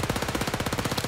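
Rapid automatic gunfire in Overkill's The Walking Dead, a close, loud burst of evenly spaced shots at a fast rhythm lasting about a second.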